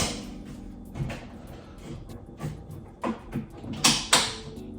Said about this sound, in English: And then you'll hear the springs snap, and then they're nice and secure.